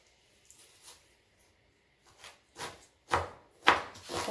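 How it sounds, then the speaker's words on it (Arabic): A knife cuts thin slices of onion on a board for a rice soup, a few light taps at first, then firmer, louder chops in a quickening rhythm, close up with no talking. "ودابا غادي نقطع البصله ديالي رقيقه"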